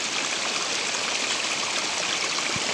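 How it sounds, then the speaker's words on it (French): Water pours down a cliff face and runs over concrete, making a steady, dense rushing and splashing that stays constant and fairly close throughout, with no voices. "l'eau elle monte et elle coule là, de la falaise. Et elle coule là aussi sur le béton."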